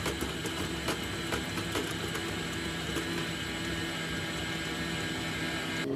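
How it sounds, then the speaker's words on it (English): A stand mixer or hand mixer beats 225 grams of cubed butter in a mixing bowl, producing a steady, loud motor whir with a faint rhythmic tapping throughout and no speech. "Beat the butter."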